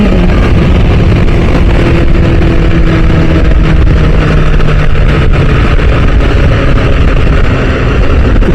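A BMW S1000RR sport motorcycle engine drones steadily at close range while riding, a loud continuous roar with low rumble and wind noise that holds an even level throughout.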